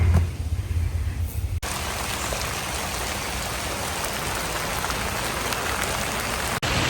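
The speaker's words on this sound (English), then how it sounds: "it's raining, so that's both good and bad because my garden said it needs water" Steady rain falls on a home vegetable garden in July, a dense, even hiss of drops on leaves and soil that holds at a constant level throughout, with no voices.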